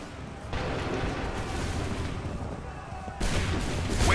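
Musket volleys in Assassin's Creed 3 crackle as a sustained rolling burst of massed gunfire, with a fresh louder volley near the end, over faint background commotion.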